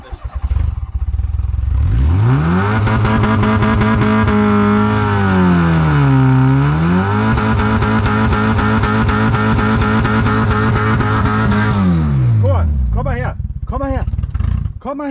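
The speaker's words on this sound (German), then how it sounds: "Und jetzt starten wir das Fahrzeug und schauen, ob es läuft." A performance-tuned car engine cranks, catches and revs loudly with a sustained rising and falling roar for about ten seconds before cutting out, followed by brief clattering and voices.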